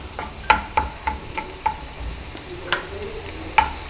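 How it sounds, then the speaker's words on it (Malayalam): Fried chicken with ginger being sautéed in a pan: a spatula clinks and scrapes against the metal about every quarter second, over a soft, steady sizzle, close and without talk. "അത് നന്നായിട്ടൊന്ന് വഴറ്റി കൊടുക്കുക. നന്നായിട്ടൊന്ന് വഴറ്റുക."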